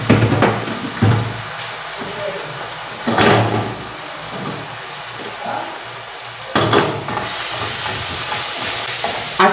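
Rice toasting in very hot oil in a pan on the stove, a steady loud sizzle and hiss throughout with occasional stirring scrapes and bursts of stronger frying.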